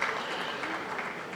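Listeners at the Orange Tree Foundation gathering applaud Chhabra with a brief, even burst of clapping, moderately loud and unbroken.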